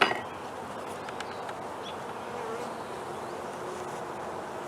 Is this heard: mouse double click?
no